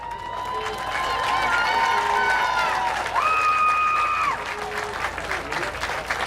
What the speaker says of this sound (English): Let's make some noise as they storm the field.